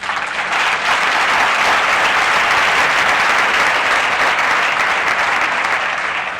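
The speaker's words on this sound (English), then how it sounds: "I appreciate your applause" Sustained, loud applause from an audience at a recovery talk, dense clapping holding steady throughout the whole stretch without any voices over it.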